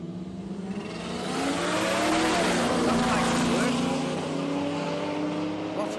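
A turbocharged drag race car revs hard at high RPM down the strip at Willowbank Raceway, a loud engine scream that swells and sweeps in pitch, then holds steady as it tears past.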